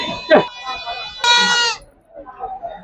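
Young male goats, four to five months old, bleat at the Mylavaram goat market: one loud, drawn-out nasal bleat after a short cry, with people talking and market bustle around.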